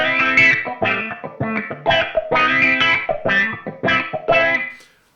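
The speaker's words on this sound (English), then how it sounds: "clearly an auto wah. Weird kind of like delay reverb on that" Electric guitar played through a Zoom 505 multi-effects processor on an auto-wah patch with a delay-like reverb, thin, funky phrased notes and chords in a steady rhythm, loud and alone, ending with a short decay.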